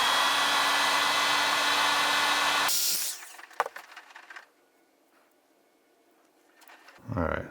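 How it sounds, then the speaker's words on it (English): A heat gun shrinks heat-shrink tubing over connector terminals while wiring a kickstand bypass dongle for a KTM 690 motorcycle. Its loud, steady blowing roar runs for about three seconds and cuts off, followed by faint close handling clicks and a brief rustle. "I'm gonna shrink this heat shrink down now"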